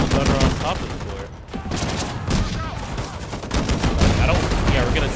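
Dense video game gunfire from shooters on a roof, sustained rapid bursts and volleys like a fusillade, loud and close with little pause, mixed with faint talk.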